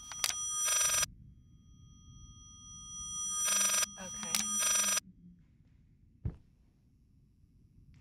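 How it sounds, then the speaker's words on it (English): A telephone rings inside a video game, three bursts of bright electronic trilling with pauses between, heard fairly clearly over a low background hum, followed by a single sharp thud. "I know there's a phone."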